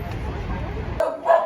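A dog in Georgia gives a quick bark or yip, brief and fairly close against background noise and voices.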